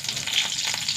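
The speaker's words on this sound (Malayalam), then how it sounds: "കടുകിട്ട് കൊടുക്കട്ടെ, പൊട്ടട്ടെ." Mustard seeds crackle and splutter in hot oil in a pan, a dense, steady sizzling hiss with scattered quick pops, close and loud with no talking.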